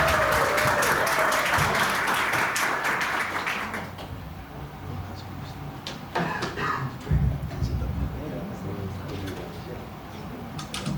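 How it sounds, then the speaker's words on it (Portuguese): Congregation applauding at a church anniversary service, dense clapping filling the first four seconds, then fading into scattered claps and room noise with faint talk. "Queremos recebê-lo com uma vibrante salva de palmas em nome de Jesus"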